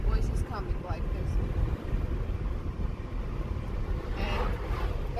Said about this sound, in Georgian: And there is one problem in engine little or something, and that's why its voice is coming like this.